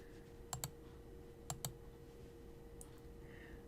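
Four quick plastic keypresses on a graphing calculator while a function is typed in, arriving as two close pairs over a faint steady hum, with no talking.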